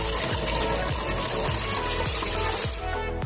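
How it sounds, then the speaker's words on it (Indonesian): Water from an aquarium gutter filter spilling back into a predatory-fish tank, a steady close splashing gush with a continuous, even wash throughout. "Kemudian dialirkan ke chamber ke 3. Kemudian jatuh kembali ke dalam akuarium."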